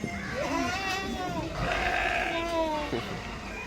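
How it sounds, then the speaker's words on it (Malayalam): A fighting goat bred for head-butting contests bleats repeatedly at a farm, wavering nasal cries close by over low background noise and some talk. "ആടുകൾ തമ്മിൽ തല്ല് കൂടിയിട്ടുള്ള മത്സരമില്ലേ, ആ മത്സരത്തിന് കൊണ്ടുപോകാനുള്ള ആടാണ് ഇതിന്"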